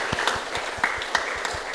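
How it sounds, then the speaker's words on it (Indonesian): Congregational applause at a church service fills the short stretch with dense, steady clapping from many hands, fairly close and moderately loud, with no voices over it. "Yuk kita beri tepuk tangan yang meriah saudara sekalian"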